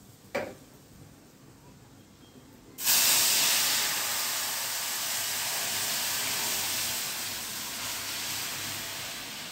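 Asafoetida goes into hot oil already holding cumin, mustard seeds, dried chillies, curry leaves and cloves to temper Gujarati tuvar dal. After a quiet start, a sudden loud, steady sizzling hiss begins and slowly eases, with no talking.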